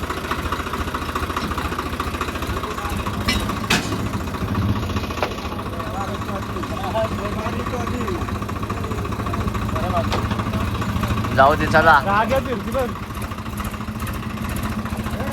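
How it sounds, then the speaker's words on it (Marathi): Tractor engine running at a steady idle-like drone throughout, fairly close, with people talking over it. "ट्रॅक्टर चालला गाईस"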